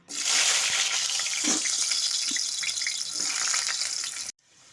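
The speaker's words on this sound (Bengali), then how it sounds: "এখন আমি আলুগুলো ভেজে নেব" Potatoes dropped into hot mustard oil in a wok, a loud rushing sizzle that swells at once and holds steady before cutting off abruptly near the end.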